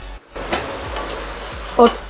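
Pasta being stirred in a pan after tomato ketchup is added, with a soft scrape, a faint sizzle and a brief clatter of the spoon against the pan near the end, close up.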